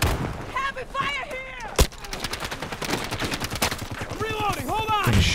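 Gunfire rattles in bursts from several directions during online video game play while the player takes hits. The shots are sharp and closely spaced, with one loud crack, and a voice talks over them.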